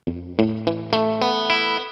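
Electric guitar plays a dry signal through an amp with a touch of reverb, about six picked notes or chords in a steady sequence, each ringing into the next, with no voices.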